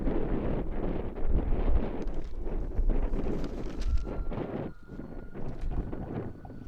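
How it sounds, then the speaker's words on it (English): Strong gusty wind buffeting close to the microphone in uneven surges at a Jamaican football match, with faint high tones in the background. "It's a bit heavy where the wind is concerned here. Windy conditions."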